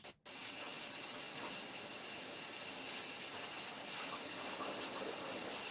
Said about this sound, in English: it sounds like you taking a shower